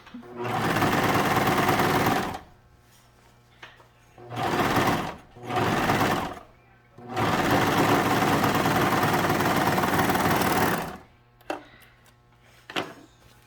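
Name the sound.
sewing machine stitching a fabric pumpkin seam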